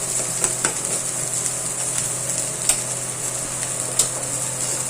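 Ingredients for ragi and drumstick-leaf adai sautéing in a pan, a continuous close sizzle with a few sharp clinks of a spoon against the pan as they are stirred.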